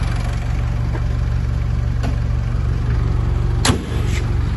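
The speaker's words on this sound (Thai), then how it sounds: "เนี่ยเครื่องยนต์นิ่งเลย" Steady, even idle of a 2011 Mitsubishi Triton 2.5 GLX pickup engine, a smooth continuous low hum with a few faint clicks and a brief bump near the end, with no talk over it.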